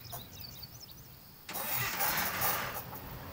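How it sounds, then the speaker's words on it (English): A car engine in a video game cranks and catches, then settles into a loud mid-pitched idle with slight revving. Quiet game ambience comes before it, and no one talks. "I'm parking the car down here."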